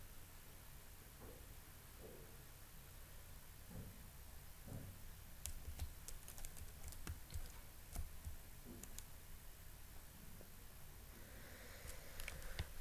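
A computer keyboard being typed on, a password entered in bursts of light clicks and taps, faint and fairly close against a steady background hiss, with a denser run of keystrokes in the second half.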